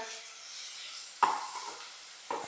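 Finely chopped onion frying in a pan, a soft sizzle with two sharp spatula scrapes against the metal, quiet and close, with no talking.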